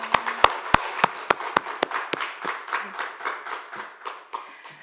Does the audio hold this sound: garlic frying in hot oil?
no